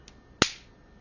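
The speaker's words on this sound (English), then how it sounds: "I love that clicking sound." A single sharp click of plastic LEGO bricks snapping together, crisp and close, standing alone against near silence.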